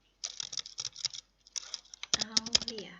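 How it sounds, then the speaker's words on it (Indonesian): Close, crisp clacking of a computer keyboard as a name is typed into a Google Form, in quick irregular bursts of keystrokes separated by short pauses in an otherwise quiet room. "Misalkan di sini kita ketik Aulia."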